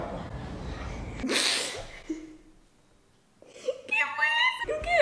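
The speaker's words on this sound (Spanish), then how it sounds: "Creo que había estornudado mi mamá." A woman sneezes once, a sharp burst partway through a short indoor stretch, with a voice talking before and after it.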